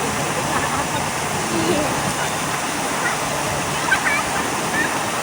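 Two rivers meet at the Devprayag confluence, and the water gives off a steady, loud, unbroken roar of rushing flow, with voices heard faintly under it.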